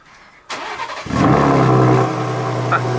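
A Ford Raptor pickup's big engine cranks briefly, catches and roars to life, then settles into a loud, steady rumbling idle.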